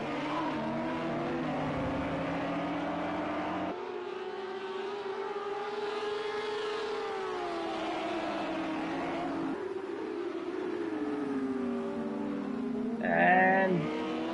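Audi and BMW race cars battle at Circuit Zolder in Project CARS 2 on PS4, a steady engine drone with rising and falling pitch and gear shifts, and a sharper tyre-like squeal near the end.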